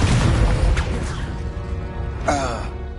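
A Confringo blasting curse from Harry Potter goes off as a deep, booming explosion up close, rumbling and then fading, followed by a shorter rushing burst a moment later.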